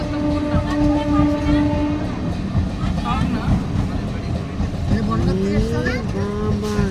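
Steady rumbling and rattling of a crowded moving train from Sealdah fills the space, with voices talking and calling out over the noise.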